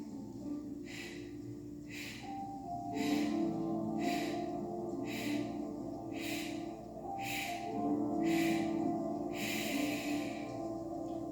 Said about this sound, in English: we're going to take a deep breath in. Exhale and pulse.